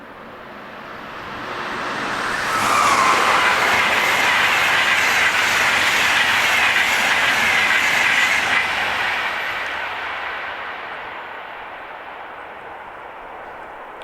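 Two Intercity trains, the Nebelhorn and the Königssee, running from Oberstdorf and Berchtesgaden, roar through a station on a high-speed line. The sound swells steadily, holds a loud rushing clatter for several seconds, then fades out with no voices.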